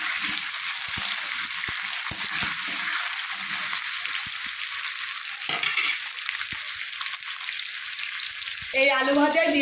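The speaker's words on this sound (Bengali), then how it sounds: "এই ফোড়নের মধ্যে আলুগুলো আমি লাল করে ভেজে নেবো।" Cut potatoes frying in a spice tempering hiss and sizzle steadily in hot oil, close and continuous, with a brief stir near the end.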